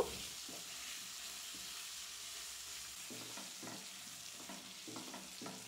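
Chopped onions sizzle steadily in a hot pan, with a constant frying hiss and a few scraping stirs toward the end. No voices.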